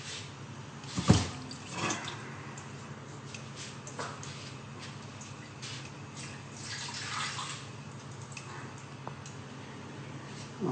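Water draining off cooked vegetables in a kitchen, with a soft running pour, occasional drips and a sharp clatter near the start, fairly faint and steady throughout.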